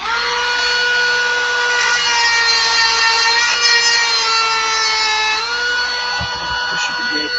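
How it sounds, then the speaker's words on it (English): A rotary tool grinding down a part on a Losi DBXL 2-stroke RC car, a loud steady high-pitched whine held for several seconds that dips briefly near the end. "So let me grind it down just a little bit more."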